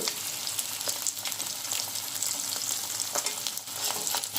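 Onions and chillies frying in oil left over from frying dry fish, a dense, close sizzle with intermittent crackles and stirring clicks, steady throughout with no speech.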